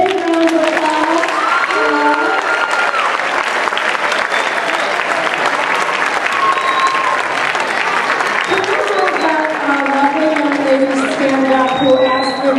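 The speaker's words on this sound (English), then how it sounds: "Can we get a big round of applause?" A large audience gives sustained, loud applause after a question-and-answer session, with a few cheers and voices rising over the steady clapping throughout.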